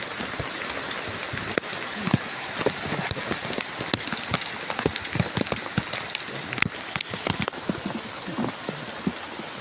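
Rain pours onto a flooded garden, a continuous dense patter with scattered sharper drops striking nearby surfaces, loud and close throughout without talk.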